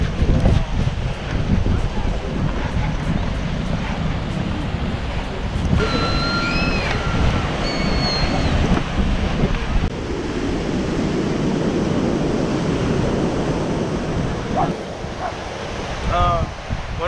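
Ocean waves roll and wash steadily onto a beach in Hawaii, with wind buffeting the microphone and a few faint higher calls above the constant surf.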